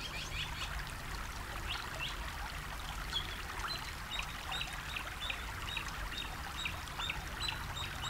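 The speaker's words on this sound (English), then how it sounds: "Can you hear the peacefulness of this river?" Calaveras River flowing steadily, a continuous soft rush and trickle of water with faint bird chirps scattered above it, calm and without talk.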